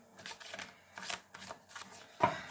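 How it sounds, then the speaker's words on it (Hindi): Tarot card deck shuffled by hand during a pick-a-card reading, several quick, close riffling bursts separated by short pauses, the last one sharper and louder. "शफल करते हैं कार्ड्स को"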